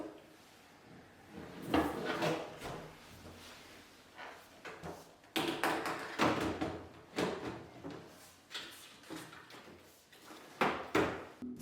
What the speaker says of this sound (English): Reattach the cabinet door to the dishwasher by the fixing brackets at the bottom.